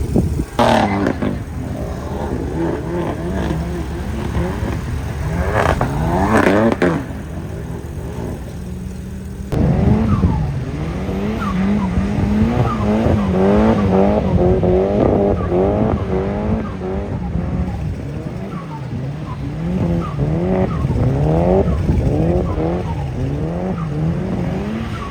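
A race car laps a track with repeated rising and falling engine revs and squealing tires through the corners, loud and continuous over about twenty-five seconds.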